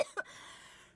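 Two short, close coughs burst out one after the other in a kitchen, followed by faint room noise and no speech.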